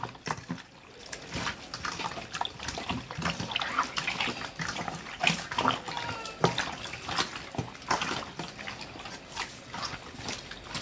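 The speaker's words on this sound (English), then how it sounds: "my husband is going to give this a mix. He's going to mix this in well." Marinated beef for Guyanese pepper pot being mixed by hand, with wet squelching and sloshing sounds in an uneven rhythm, close up and with no talking.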